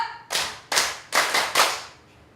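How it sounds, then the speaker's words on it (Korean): A large group at a 7080-era song singing class claps in unison as part of a counting clap game. The sharp, loud bursts come in a quick rhythmic pattern, the last two nearly joined, then a brief quiet tail follows. "박수 다섯 번 아시는 분?"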